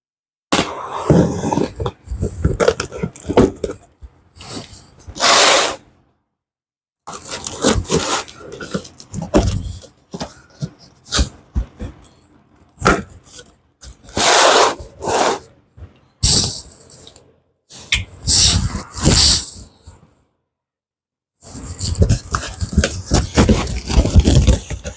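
A box holding an Arc Captain MIG145 PRO welder is cut open. Repeated close scraping and slicing strokes come in bursts, separated by short silences.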